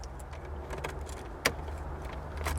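Spare keys for a manual BMW E34 535i jangle in a brief metallic rattle inside the car, with one sharper clink near the middle over a low, steady background rumble.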